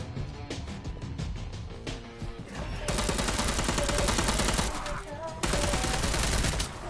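Golden gun firing at zombies in Dead Island, loud rapid gunfire in sustained bursts with brief pauses between volleys, close and dominant throughout.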